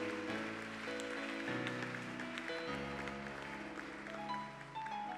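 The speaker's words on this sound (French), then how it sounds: "So, clap your hand for Jesus." A church congregation claps along during a French-English service, steady sustained applause mixed with music-like tonal layers underneath, continuous and moderately loud throughout.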